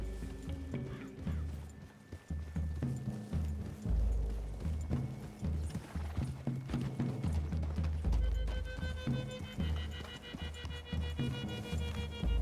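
Horses' hooves clip-clop steadily on the ground in Red Dead Redemption 2, a continuous irregular patter of thuds moving along with a low ambient game soundscape.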